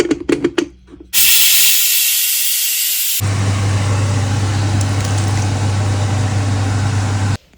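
A pressure cooker steams marinated beef, seasoned with chilli, curry leaves, salt and pepper, giving a loud, continuous hiss that shifts into a steady rumbling steam with a low hum, all without speech.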